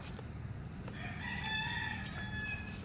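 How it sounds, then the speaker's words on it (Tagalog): A rooster crows amid chickens at a rural farmyard in the Philippine countryside, a clear drawn-out crow standing out over a steady background of birds and low ambient noise, with no talking. "Dami silang manok alaga."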